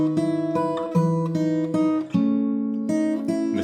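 Acoustic guitar picks the intro to a song from Trolls, a slow, gentle fingerpicked pattern of ringing single notes over sustained bass, played alone and close.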